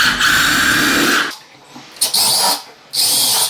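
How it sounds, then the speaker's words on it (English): A power drill pre-drills screw holes in timber for door hinges during a door replacement, whirring loudly in two or three short bursts separated by quiet pauses, close by. "all we want to do is just pre-drill the holes"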